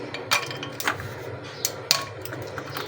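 Ice cubes dropped into a glass of plum (aloo bukhara) sherbet, giving a few sharp clinks and knocks spaced over a couple of seconds, close by.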